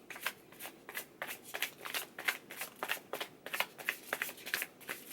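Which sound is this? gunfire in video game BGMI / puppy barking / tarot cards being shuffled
tarot cards being shuffled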